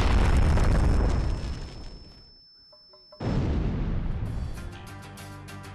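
Two very loud gunshots boom close by on a firing range, separated by a brief hush with a high ringing tone, the second blast trailing into rumbling echo.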